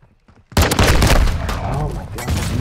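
Sudden loud gunfire in Call of Duty: Modern Warfare II, a burst of close shots erupting after a brief quiet with some talk, followed by a sustained crackle of further shooting.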